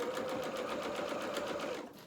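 A sewing machine runs a continuous, fast stitch along a ruffled pinafore seam, holding a steady whirring drone with a rhythmic needle patter before easing off at the very end.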